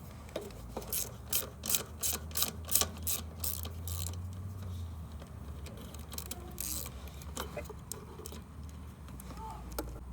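A hand ratchet removes two bolts from the carburettor of a Honda HRU 216 self-propelled lawn mower, giving a quick series of close, crisp clicking bursts in the first few seconds, then quieter rubbing and handling noises.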